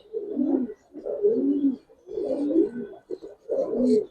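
Giribaz pigeons at a pigeon farm give four rhythmic, close cooing phrases, each a soft throaty burble separated by short pauses, with no voices present.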